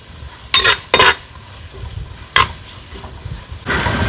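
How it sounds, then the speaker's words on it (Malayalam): A spatula scrapes and stirs crushed ginger and garlic with onions in a pan for a chicken liver roast, giving a few loud scraping strokes over a low, steady sizzle. "അപ്പൊ നമ്മള് ഇഞ്ചിയും വെളുത്തുള്ളിയും കൂടി ചതച്ച് അരിഞ്ഞത് അതും കൂടിയിട്ട് വഴറ്റാം."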